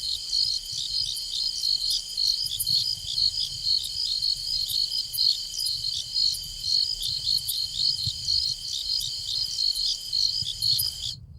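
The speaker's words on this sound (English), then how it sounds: "You get nothing but crickets." Crickets chirping in a steady, continuous high trill with regular pulses, heard alone without any talk.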